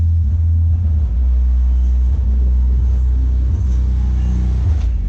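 A powerful car sound system in a VW Saveiro pickup booms loud and close, with heavy, steady bass rumbling continuously and no talk.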